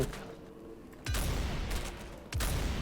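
Gunfire in a zombie video game: two heavy booming blasts, each followed by rumbling decay, loud and close, with quieter background noise before the first shot.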